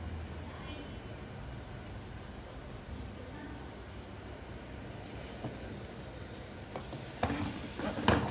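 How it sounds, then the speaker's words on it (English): Aubergine fries in a pan with a steady, faint crackling sizzle, joined by a few louder scraping stirs toward the end. "I'm getting a nice sizzle."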